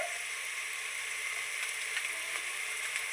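Onion and garlic sauté in a pan for Kerala-style soya chunk curry, giving a steady, moderate hiss of frying with faint stirring.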